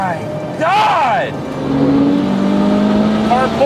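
Ferrari 812 Superfast V12 engine pulling hard under full throttle after a downshift, a loud rising engine note that climbs in pitch and holds close inside the car, with excited voices over it.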